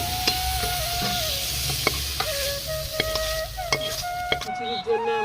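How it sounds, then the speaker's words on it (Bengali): Boiled potato and cauliflower hit hot oil in a Bengali vegetable khichuri pot, setting off a steady loud sizzle with scraping stirs and a few sharp utensil clinks throughout. "খিচুড়ির মধ্যে এগুলো সব ঢেলে দেবো।"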